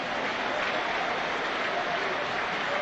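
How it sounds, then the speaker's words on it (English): A football crowd at a Sunderland v Birmingham match applauds two substituted players as they leave the pitch, a steady, dense wash of clapping filling the stadium without a break. "Both players receiving ovations as they come off here."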